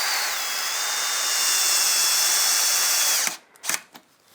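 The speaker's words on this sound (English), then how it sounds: "So I'm bringing the torque setting up on the drill." Cordless drill whirring steadily at close range as it drives a screw into a Wellingtonia wood garden bench, a sustained high motor whine that cuts off, followed by a few short clunks and bursts.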